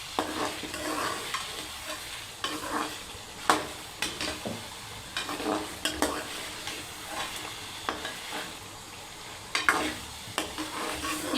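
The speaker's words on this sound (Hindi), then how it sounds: "और चम्मच से बराबर हिला के मिक्स कर लें।" A spoon stirs chicken karahi after black pepper is added, with repeated scraping strokes against the pot over a soft, steady sizzle, close and fairly quiet.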